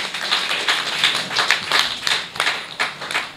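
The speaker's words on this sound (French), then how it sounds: "je voudrais franchement que vous applaudissiez très, très, très fort le conseiller Boris Tossah" An audience applauds for councillor Boris Tossah at a youth day of reflection for peace, a close rhythmic run of claps with a steady beat, loud and on its own without talk.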